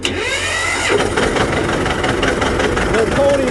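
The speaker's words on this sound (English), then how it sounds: "Little pony motor." The small pony starting motor on a tractor runs at a steady, busy mid-pitched drone throughout, loud and close, with voices faintly audible under it.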